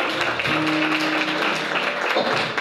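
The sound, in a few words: church congregation applause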